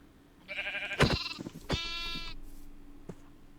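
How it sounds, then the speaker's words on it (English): A baby sheep in a hardcore Minecraft survival game gives a few short, close bleats in quick succession, then falls quiet, leaving only faint background noise. "I'm gonna have to kill the baby sheep."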